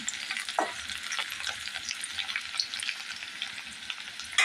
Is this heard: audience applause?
no